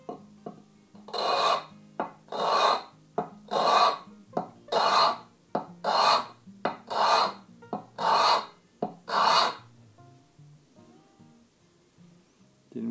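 A Japanese hand plane blade is rubbed back and forth on a sharpening stone to flatten it, giving about nine loud, rhythmic rasping strokes close up, then a few faint scrapes.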